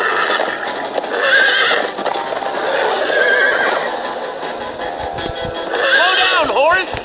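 Horses whinny several times over a steady rush of hooves, a busy, loud scene from Minecraft Story Mode with voices mixed in.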